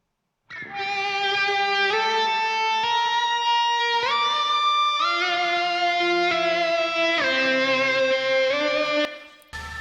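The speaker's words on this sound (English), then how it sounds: "That section goes into solo number 2, played with an EBow." A sustained, singing electric guitar solo played with an EBow, smooth swelling notes and no picked attacks, gliding between pitches under light effects, alone and fairly loud.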